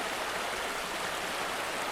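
The Poulters Burn, a village stream, flows with a steady, even rush of water, constant and fairly soft with no other sounds.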